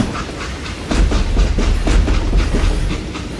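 A train in the Western video game Call of Juarez rolls along with rhythmic clickety-clack wheel beats and a rumbling, hissing undertone, loud and close throughout.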